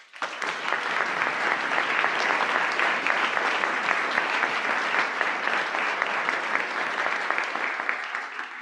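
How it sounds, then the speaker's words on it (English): A church congregation claps steadily for several seconds, a dense, even wash of applause that starts abruptly and tapers slightly at the end. "So let's give ourselves a round of applause."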